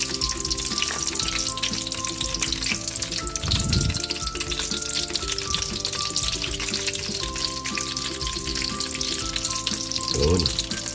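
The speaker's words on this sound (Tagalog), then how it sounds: "Prito na tayo ng ating talong." Continuous crackling sizzle of eggplant frying in hot oil, fairly loud and close, with a couple of brief stirring or scraping sounds.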